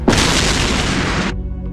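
A bomb blast in the anime Btooom: one loud, roaring burst that hits suddenly and holds full force for over a second before cutting off abruptly into near silence, with no voices.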